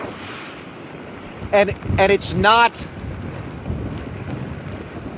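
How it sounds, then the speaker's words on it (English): Wind-driven waves from Hurricane Nicole crash over the Lake Monroe seawall, a steady rushing roar of surf and wind buffeting the microphone, with someone speaking briefly over it midway. "The wind picking up these waves."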